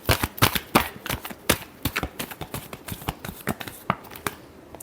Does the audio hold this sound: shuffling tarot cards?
yes